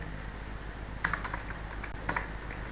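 A name is typed on a computer keyboard in two brief bursts of clicky keystrokes over a low steady background hum, close up and without talk.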